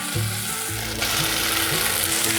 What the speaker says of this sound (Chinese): 把红萝卜丝炒软，炒软了